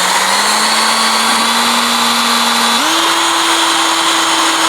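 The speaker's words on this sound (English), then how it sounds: "So cast iron drill's pretty nice when it gets going." Power drill boring through cast iron, a loud steady whine held close for the whole stretch, its pitch stepping slightly upward partway through as the bit bites in, with no voices.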